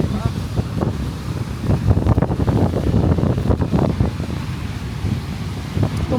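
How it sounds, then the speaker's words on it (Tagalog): Big ocean waves crash at a beach in Zambales, Philippines, while strong wind buffets the microphone in loud, gusty bursts and voices are faintly heard underneath. "Lalaki ng alon."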